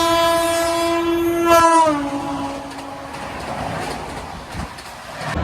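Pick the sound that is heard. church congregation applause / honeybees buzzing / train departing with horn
train departing with horn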